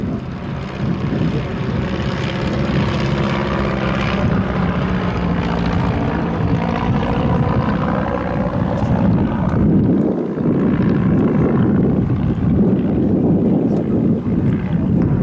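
Vintage propeller aircraft with a Renault engine flying at an airshow, a loud continuous engine drone with rising and falling pitch as it passes.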